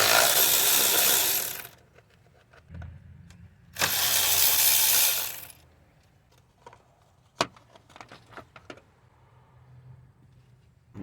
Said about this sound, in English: I'm gonna be removing the 10mm bolts that hold this thing here